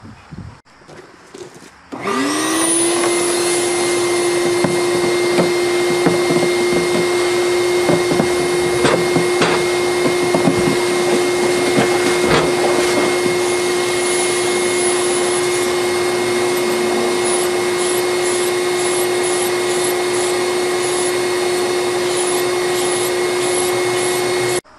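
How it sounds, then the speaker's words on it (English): Shop vacuum cleaner sucking debris and leaves out of a tank hull, starting abruptly and then droning steadily and loudly with a high whine, with occasional rattles and knocks of debris through the hose. "Let's get the vacuum cleaner out first."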